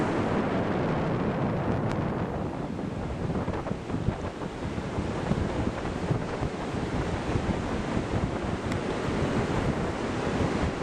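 Ocean surf at Buzios beach rolls in steadily beside an oceanfront condo building, a loud continuous wash of breaking waves with wind buffeting the microphone and no voices.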